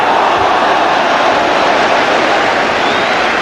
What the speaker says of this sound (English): Applauding the cross from Hartson.